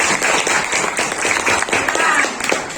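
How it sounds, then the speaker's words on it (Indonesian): Sustained applause from students in a classroom, dense clapping throughout with voices mixed in. "Tepuk tangan."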